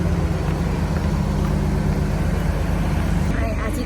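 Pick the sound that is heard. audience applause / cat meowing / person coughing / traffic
traffic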